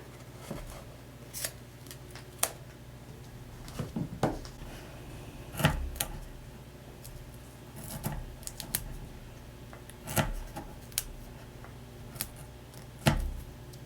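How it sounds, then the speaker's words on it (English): Regular household scissors snip through foam adhesive tape during a card-making craft session, giving a series of short, sharp cuts spaced a second or two apart, moderately close with no talking. "I love how easily our foam tape cuts with just my regular scissors here"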